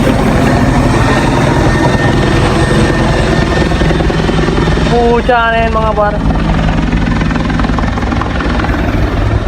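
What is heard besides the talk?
helicopter flying overhead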